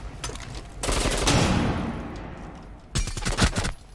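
Rapid automatic gunfire in Rainbow Six Siege, a dense fusillade of loud close shots in bursts, fading into a reverberant tail, then another sharp burst of shots near the end.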